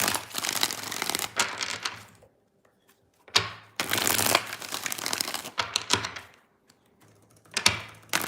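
Tarot cards are shuffled in several quick riffling bursts, each a crisp flurry of papery flutters separated by short pauses, close up.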